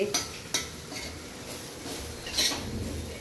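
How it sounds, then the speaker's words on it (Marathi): Masala sizzling in a kadhai as it is stirred, with repeated metal scrapes and knocks of the spoon against the pan over a steady close frying hiss. "चला मसाला पण चांगला परतला गेलेला आहे."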